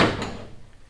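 A newly built half door on a Stublazer off-road vehicle swinging shut, one short dull clunk that quickly fades, close and fairly quiet with no talk.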